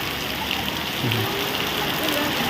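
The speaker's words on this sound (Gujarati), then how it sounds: "વરસાદ આવ્યો તો ધીમો થઈ ગયો" Steady, even hiss of rain falling on surfaces, constant throughout with no breaks, fairly close.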